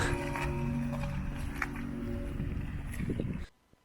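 A Renault ZOE electric car's external spaceship-like warning sound: a steady synthetic humming tone with layered tonal bands, played continuously for about three seconds before cutting off.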